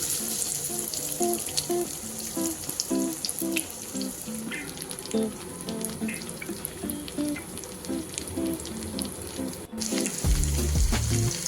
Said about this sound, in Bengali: বেসনের মধ্যে আমি উচ্ছেগুলো একটু ডুবিয়ে ভেজে নেব।